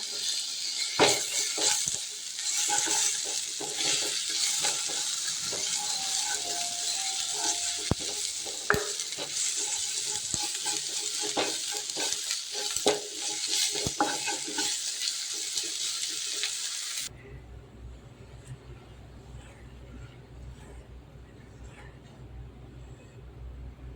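Spiced onions sautéing in a hot pan give a steady sizzle with stirring clatters for most of the stretch, then the sound drops to a quiet, hissing simmer near the end.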